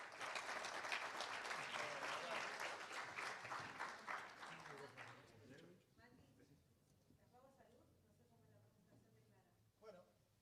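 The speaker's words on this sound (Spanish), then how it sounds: "recibámoslos con un fuerte aplauso" A conference audience breaks into strong, dense applause that fills the first half, then thins out and fades as a voice begins speaking over the dying claps.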